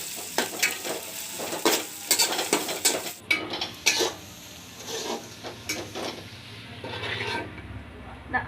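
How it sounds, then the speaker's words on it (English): Onions frying golden brown in a pot with cinnamon, green and black cardamom and cloves, a steady close sizzle broken by repeated scraping stirs and clinks of a spoon against the metal. "Let the onions fry golden brown."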